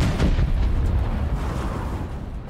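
A big C4 explosion destroying a tank in Fortnite: a loud, dense rumbling blast that fills the whole clip, heavy in the low end and slowly fading, with no talk over it.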